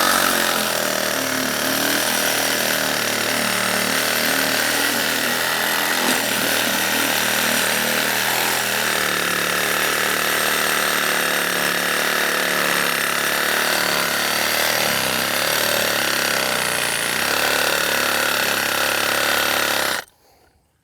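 A reciprocating saw cuts down through soil to take a sample for a soil tray, a loud, continuous, harsh buzzing that runs steadily for about twenty seconds before stopping abruptly.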